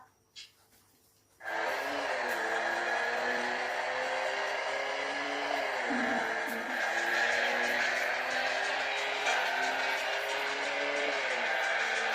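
Engine drone of cars in a traffic driving video game, a steady revving hum with slight pitch shifts that holds loud and continuous after a quiet start, with no one speaking.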